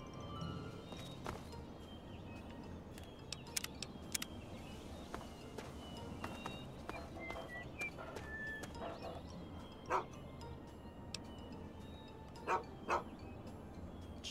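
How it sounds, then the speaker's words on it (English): A dog in Fallout 3 barks in short bursts across a long stretch of steady outdoor ambience, with scattered footsteps and light clicks, the barks fairly distant and intermittent. "Okay, random dog."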